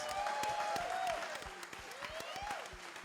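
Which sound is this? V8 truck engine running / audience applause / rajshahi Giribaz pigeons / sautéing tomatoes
audience applause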